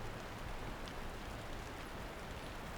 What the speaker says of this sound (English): the steady rain makes my steps heavier.